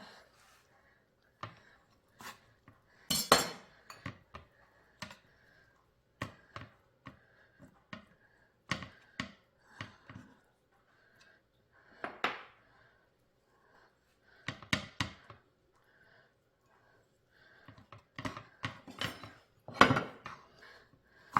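Knife cutting gompi seaweed wraps for ssam on a cutting board: sharp, irregular chops and taps, sometimes in quick clusters and sometimes spaced apart, close and fairly clear over a quiet background.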